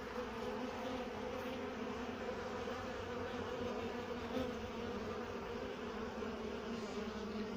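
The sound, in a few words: honey bees swarming to feed on sugar syrup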